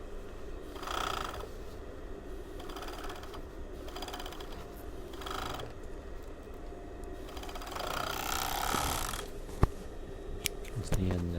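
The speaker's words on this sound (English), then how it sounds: "give yourself a little bit of extra overlocking so that we can tuck that under in a minute" An overlocker runs along a blouse sleeve seam in bursts, a rapid mechanical whirr that starts and stops several times, with a brief click near the end, fairly quiet and close.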